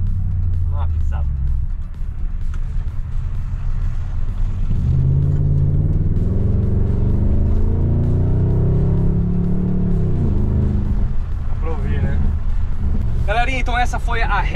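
2006 Range Rover 4.2 Supercharged engine pulling hard, a deep rumble rising in pitch through a long acceleration, with supercharger whine and talk and laughter near the end.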